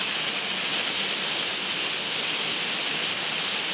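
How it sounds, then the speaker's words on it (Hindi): Dense, steady downpour hissing continuously, heavy rain pattering on surfaces with no breaks and no voices. "आवाज़ बारिश की बहुत ज़्यादा है"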